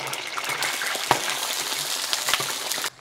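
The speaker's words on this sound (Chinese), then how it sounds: "先把大腱炸一下" Thick pieces of goose meat frying in hot oil at home, a steady broadband crackle and hiss with a few sharper pops, close and fairly quiet, ending abruptly.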